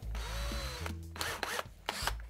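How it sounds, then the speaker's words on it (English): A power drill with a 1/8 bit bores out tapped holes in a metal ski bracket, giving a loud, close motor whine that rises and falls with short grinding bursts. "drill out all four tapped holes"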